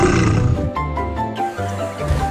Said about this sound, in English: Big lion, small cub.